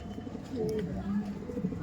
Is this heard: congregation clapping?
no